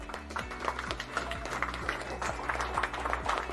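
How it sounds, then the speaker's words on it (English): An awards-night audience applauds a winner, with sustained crowd clapping at moderate volume under a low musical hum. "Let's give her a huge, huge round of applause, please"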